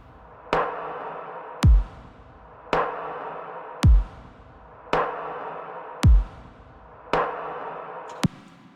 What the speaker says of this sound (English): so that basically the reverberated tail of that snare would lead into that snare